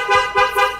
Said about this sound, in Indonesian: klakson juga aman